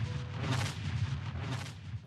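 Thunder from a lightning strike rumbles as a continuous, loud, deep roar with broadband crackle above it, sustained throughout without pause.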